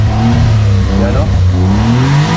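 A mini van's engine, shown off for its off-road sporty edition, revs loudly up and down in close, strong pulls, with someone talking over it.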